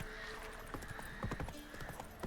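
Roach, the horse from The Witcher 3 video game, trots in a short burst of quiet, evenly spaced hoof clops over a steady game ambience.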